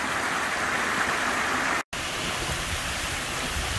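Constant broad rush of a waterfall pouring nearby, loud and steady, broken by a sudden instant of silence midway before the roar resumes.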